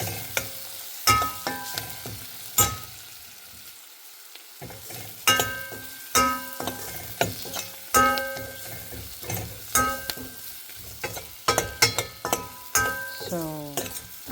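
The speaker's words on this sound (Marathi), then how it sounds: "आणि आता आपण हळद तळून घ्यायची आहे." Turmeric fries in hot oil for a methi dal tadka, a soft sizzle broken by repeated sharp clinks and scrapes of a spoon stirring the pan, close and with no voices.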